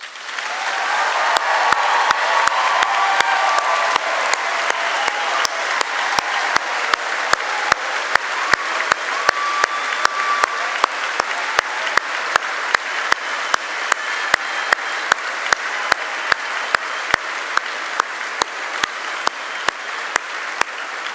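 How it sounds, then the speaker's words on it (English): A graduation ceremony audience at LIPA in 2018 gives a long, steady round of applause, dense clapping sustained at full strength for about twenty seconds with no voices over it. "in just a round of applause for everything they've done for you"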